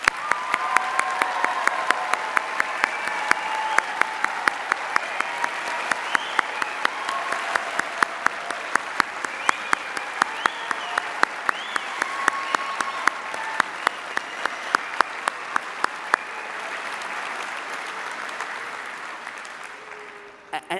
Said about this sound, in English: We've clapped a lot, but I think you deserve another round.